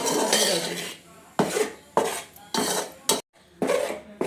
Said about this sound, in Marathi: कोरडे पीठ आपण आता थोडा वेळ भाजूया